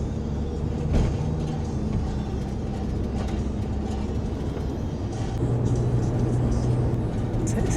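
Steady low road rumble from inside a moving minivan on a trip around Kenting, Taiwan, holding constant with faint cabin noise and a brief knock near the start.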